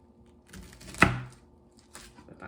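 A knife slicing through collard greens on a board, one crisp close cut with a short crunchy tail amid quiet surroundings.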